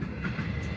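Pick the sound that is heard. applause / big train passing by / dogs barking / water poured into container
big train passing by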